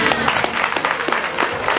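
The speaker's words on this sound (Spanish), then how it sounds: "Muy bien, fuerte los aplausos" A room full of wedding guests applauding, a busy patter of many hands clapping at close range with scattered sharper claps standing out.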